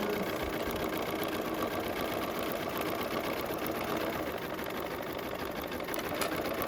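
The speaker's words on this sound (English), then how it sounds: "And my machine does an automatic little back stitch" A home sewing machine runs steadily for about seven seconds, stitching a scant quarter-inch seam on a bag with an automatic backstitch; its motor whirs loud and close with an even mechanical rattle and no talking.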